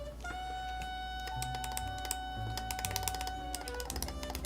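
Typing on a Neo75 Cu keyboard fitted with Gateron Type R switches, a close, quiet run of individual keystrokes in an irregular rhythm, some struck harder than others, with no talking over them.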